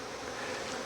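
Dense, steady buzzing of many honeybees pouring out of an alarmed hive to attack, a continuous close, even drone with no pauses and no voices.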